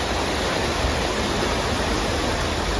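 Rainwater flows in a continuous, close, even rush like a small stream, with no other sounds and no talking.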